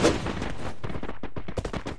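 Rapid bursts of gunfire from a battle royale video game, sharp cracks firing in quick succession, loud and close, with no talk.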